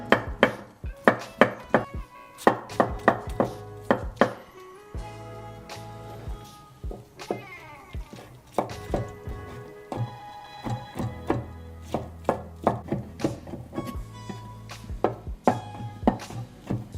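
Mushrooms are chopped with a knife on a cutting board, quick rhythmic wooden knocks in uneven bursts, close and fairly loud, with no talking, while a thick doenjang stew is prepared.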